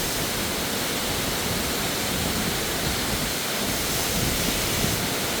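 Nalagana waterfall, near Bulathkohupitiya in Sri Lanka, thunders close by as a dense, constant broadband roar of falling water, loud and unbroken with no voices.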